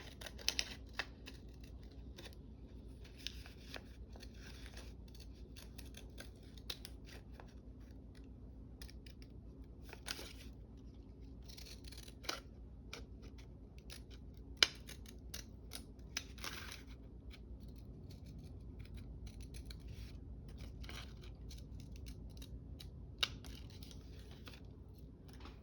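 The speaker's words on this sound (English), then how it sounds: "I use the decal scissors to cut out" Decal scissors snip out a decal in a quiet room, making a run of small, faint, crisp cuts at an irregular rhythm.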